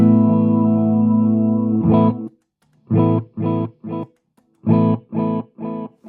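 A sustained electric guitar chord rings out, then cuts off and is followed by a run of short, evenly spaced repeats from an Echoplex EP-3-style tape echo, fairly loud.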